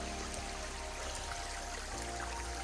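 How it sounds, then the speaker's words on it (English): A small winter stream flows steadily along a snowy, icy hiking trail, its broadband rush continuous and close, with no talking over it. "Nice little stream here."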